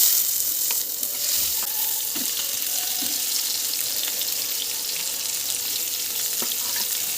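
Fish frying in hot refined oil in a wok, a steady close sizzle with crackling bursts that carries on throughout without a break and with no voices over it.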